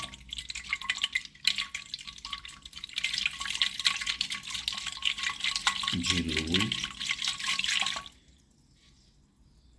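Water trickles and drips into a container, diluting orchid fertilizer at home, a steady close pour lasting several seconds before stopping abruptly, with a voice speaking over it.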